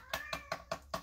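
A cat meows repeatedly outside a glass front door, five short, evenly spaced cries in quick succession, fairly close and clear with no talk over them.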